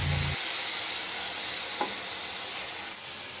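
Marinated pork liempo hits a frying pan of tomato paste, setting off a steady, close sizzle and hiss that holds for several seconds with no voices.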